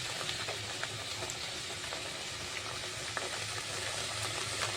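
Turmeric and spices being stirred and fried in a pan, a steady low sizzle and faint bubbling running throughout with a few soft scraping ticks, no voices.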